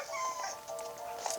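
Dogs in a video game give high, thin whimpering whines, a few drawn-out cries close by with faint background sounds and no speech.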